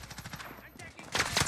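M4A1 automatic fire in the video game Warzone, a short rapid rattle of shots that grows louder toward the end, with game noise and a voice in the mix.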